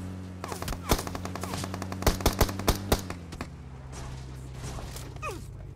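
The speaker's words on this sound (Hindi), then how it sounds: "यहाँ पे बंदा यूएमपी चलाता है, न जाने कितने मीटर दूर से उसने यूएमपी चिपकाई और सीधा सर पे गोलियां पेल दी।" UMP submachine gunfire in the mobile shooter PUBG Mobile, bursts of rapid shots followed by several loud, spaced single cracks over a steady engine-like drone, then fading to quieter ambience.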